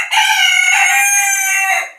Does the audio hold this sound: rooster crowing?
yes